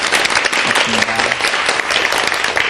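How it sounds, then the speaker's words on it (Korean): Audience applause for two lecturers after a Bible lecture, steady dense clapping from a seated crowd throughout, fairly loud and close. "오늘 좋은 강의 해주신 두 분 강사님께 다시 한번 큰 박수 부탁드릴게요"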